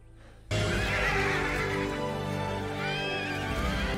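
A horse gives a loud, long neigh, its whinny rising and wavering close by, followed by a second shorter call.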